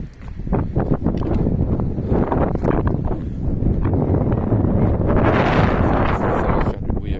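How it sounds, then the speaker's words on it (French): Strong wind buffets the microphone in steady roaring gusts, loud and close, beside a camper van at Santa Pola, Spain, with a brief voice mixed in. "Toujours du vent, hélas."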